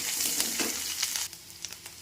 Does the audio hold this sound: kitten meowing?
no